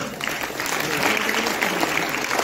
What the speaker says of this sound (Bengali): আরে ম্যাডামের জন্য একটা জোরে হাত তালি দিন।